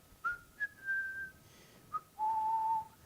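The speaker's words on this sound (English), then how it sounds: "you're like whistling" Someone whistles a short tune: two quick chirps, a sustained note, another brief chirp, then a long held lower note, fairly close and alone.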